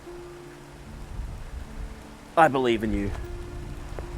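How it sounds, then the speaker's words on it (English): Steady rain falls outdoors on a mountain climb, a soft continuous hiss close by, while a voice briefly speaks over it. "rain's pretty steady now"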